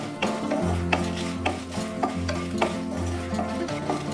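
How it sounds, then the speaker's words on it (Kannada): Chillies dry-roast in a pan until crisp, a continuous close rattle and scrape of stirring with a soft sizzle beneath and a low steady hum, no voices. "ನಿಧಾನಕ್ಕೆ ಗರಿ ಗರಿ ಆಗೋವರೆಗೂ ನಾವು ಹುರ್ಕೋಬೇಕಾಗುತ್ತೆ ಮೆಣಸಿನ್ಕಾಯಿನ"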